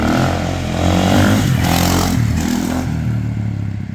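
A GasGas dirt bike engine revs hard and steadily through a wheelie, its loud, continuous drone rising and holding, with some clatter near the machine.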